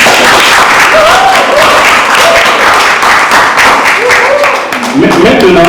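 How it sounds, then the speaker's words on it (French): Steady, loud clapping from guests at a wedding ceremony in a church, continuing throughout with voices talking and calling out over it. "On applaudit aussi."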